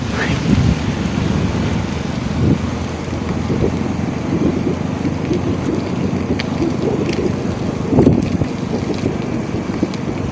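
Continuous wash of sea waves mixed with wind buffeting the microphone, with occasional louder surges.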